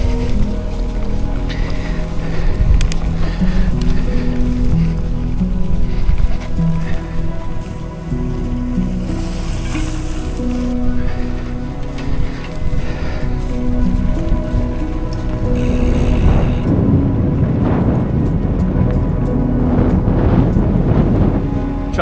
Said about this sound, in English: We've been fighting into the wind for 15 minutes or so. Very windy, as I suspected it would be.